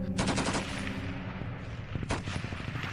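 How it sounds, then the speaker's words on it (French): An 1884 Maxim machine gun firing in rapid continuous bursts, loud and close, with a brief pause before another burst of rattling shots, no voices. "La mitrailleuse Maxim de 1884 pouvait tirer environ 600 coups par minute."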